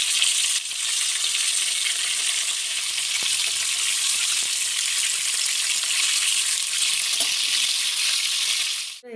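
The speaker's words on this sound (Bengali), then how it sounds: "এবার আমি ফুলকপিগুলোকে হালকা ভেজে নেব" Cauliflower florets, lightly salted, fry in soybean oil with a steady, loud, dense sizzle that holds evenly throughout, with a few faint clicks of stirring underneath.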